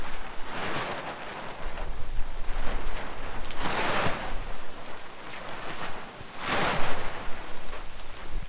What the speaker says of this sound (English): It's raining pretty lightly at the moment